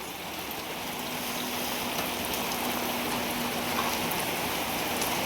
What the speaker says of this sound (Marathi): लय पाऊस झाला हो. लय मोठाले थेंबच लय मोठा मोठाले.